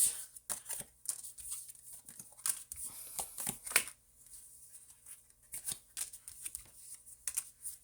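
A deck of tarot cards shuffled by hand in repeated quick riffling bursts with short pauses between them, close and fairly quiet, with no talk.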